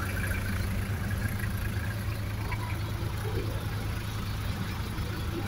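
An Isuzu Elf light truck's diesel engine idles at close range with a steady, low, even rumble and no change in pitch, heard alone without talk.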